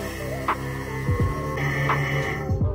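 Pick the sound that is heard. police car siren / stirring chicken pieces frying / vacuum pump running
vacuum pump running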